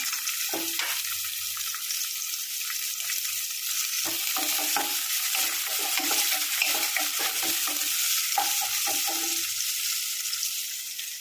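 Chopped onions fry in oil with cinnamon and four or five cloves for Kumbakonam kadappa, giving a steady loud sizzle with repeated stirring scrapes throughout.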